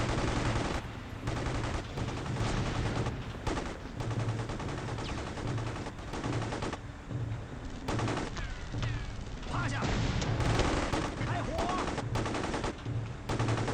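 Video game gunfire crackles in loud, dense bursts of rapid shots, with brief gaps between volleys and steady combat noise underneath.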